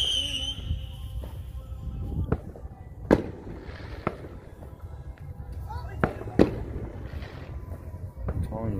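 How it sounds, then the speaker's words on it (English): Fireworks crack and boom at a neighborhood party, several sharp loud bursts spaced a second or two apart over a steady crowd murmur and nearby voices. "They got the best fireworks."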